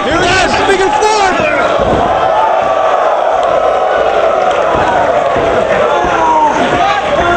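A wrestling arena crowd roars and chants behind the Great Muta's figure-four leglock at an ROH Final Battle event, a loud continuous wall of cheering with commentators talking over it.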